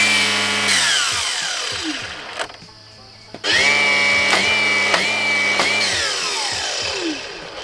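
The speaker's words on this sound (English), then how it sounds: "this little wrench, it's taking too long." A small electric power wrench whirs loudly in a garage, running in long bursts that wind down and stop, with a brief quiet gap between runs.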